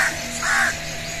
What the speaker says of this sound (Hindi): कौवे की आवाज बहुत अच्छी लगती है